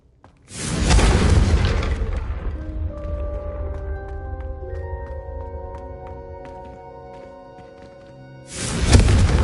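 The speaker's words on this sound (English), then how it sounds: "a Confringo cast travels a bit farther than that of a spell like Incendio" A Confringo spell in a Harry Potter video game bursts in a loud, deep explosive boom that rings out with a long tonal decay, followed by a second sharp blast near the end.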